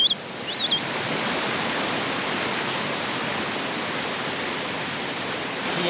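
A mountain stream in the Bolivian Andes rushes along in a steady, even wash of water, constant and fairly close, with no voices.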